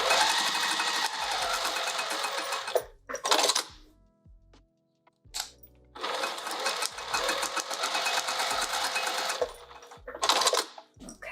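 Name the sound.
sewing machine stitching a pouch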